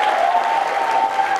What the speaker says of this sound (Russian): давайте приветствовать бурными гостеприимными аплодисментами всех